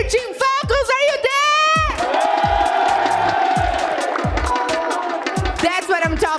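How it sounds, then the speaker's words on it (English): An esports arena crowd at a Free Fire grand final roars, cheers and chants for Team Falcons in loud, rhythmic bursts, with whoops and shouting throughout. "Team Falcons crowd are going crazy and they are chanting Falcons, Falcons."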